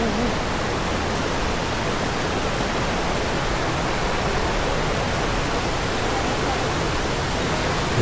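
Steady, dense rush of cascading water from Kalu waterfall in Malshej Ghat, Maharashtra, wet after rainfall, sounding near and continuous with no break or talk.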